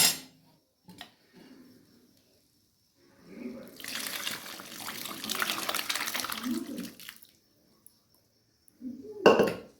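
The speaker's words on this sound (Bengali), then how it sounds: "আমি জল সমেত ভুঁড়িটা মশলার সাথে ঢেলে দেব" Boiled goat tripe with its water poured into a pan of fried spice mix, a sustained splashing pour with sizzling that lasts several seconds, framed by brief clinks and a short Bengali-speaking voice at either end.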